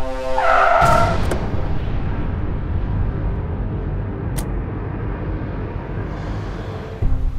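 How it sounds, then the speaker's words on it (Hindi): A car's tires squeal sharply as it brakes to a stop, followed by a sustained, loud broadband rumble of the road and engine that continues for several seconds before a brief thump near the end. "ड्राइवर, आगे लेफ्ट में गाड़ी रोक दो।"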